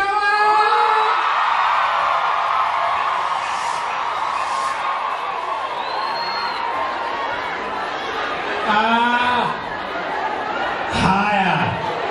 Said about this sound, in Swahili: Wapi makofi? Wapi kelele?